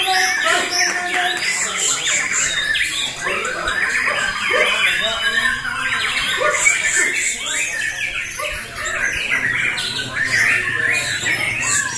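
Multiple murai batu, oriental magpie-robins, trade long, piercing song bursts and squawks at a Cikeas singing contest, dense and overlapping throughout, with people talking underneath.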